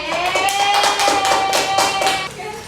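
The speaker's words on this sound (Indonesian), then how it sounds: "Tepuk tangannya guys" A class claps hands together in a room during a simulated lesson, steady rapid clapping close by with a sustained tone running underneath.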